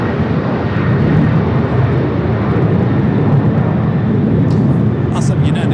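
A Cathay Pacific Boeing 777 airliner at LAX airport, a loud, steady roar of jet engines close by, broad and unbroken, with a radio voice speaking faintly under the noise.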